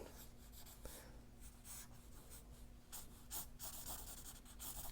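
A marker sketches on paper during a car design drawing demo. Soft, close scratchy strokes come in quick irregular bursts over a faint steady hum, with no talking.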